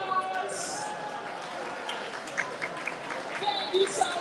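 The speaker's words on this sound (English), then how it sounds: "Please give me a round of applause." Alumni at a school class reunion applaud, a soft, diffuse patter of clapping with crowd noise and whoops, moderately distant and fairly quiet throughout.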